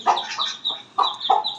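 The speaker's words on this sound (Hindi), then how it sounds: "यूं हमारी एक मुर्गी है" A hen on a farm that keeps goats and poultry clucks in repeated short bursts, close and clear, with no talk over it.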